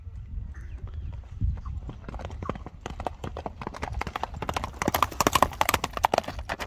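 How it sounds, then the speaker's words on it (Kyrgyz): A horse walking on hard ground gives clip-clopping hooves in an even, quickening rhythm, close and clear, with a faint outdoor background. "аттын баскан басыгын көрүп турасыздар"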